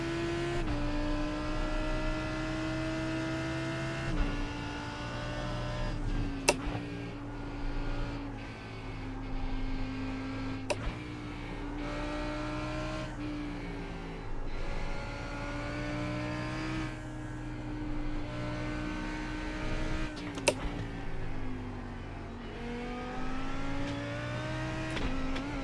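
GT race car engines at Circuit of the Americas in iRacing, a Ferrari running just ahead, droning steadily with pitch rising and falling through gear changes, plus a few sharp clicks and no talk.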